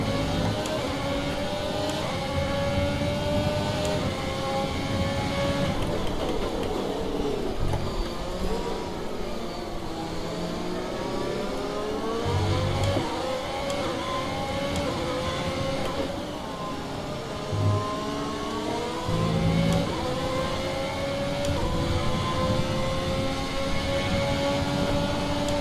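A McLaren race car engine in a racing video game at Zandvoort drones steadily and loud, its pitch sweeping up and down through gear changes and corners, with no talk over it.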